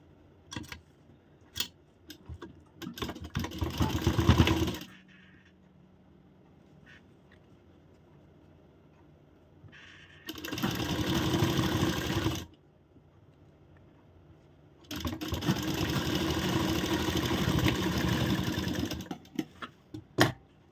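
A sewing machine stitches a blouse in three loud, steady motorized bursts, the longest lasting a few seconds, separated by quiet pauses with small clicks and handling noises.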